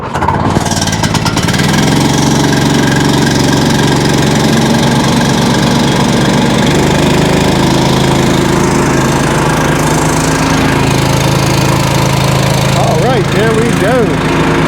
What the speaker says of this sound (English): Let's see how she starts.